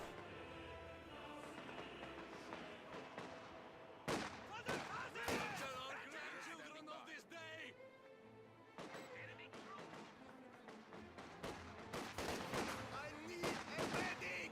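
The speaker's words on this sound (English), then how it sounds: "We've got a firing line of conscripts." Gunfire from a firing line of conscript infantry in Company of Heroes 2, a steady crackle of rifle shots with sharp louder bursts, mixed with battle noise and a commentator talking throughout.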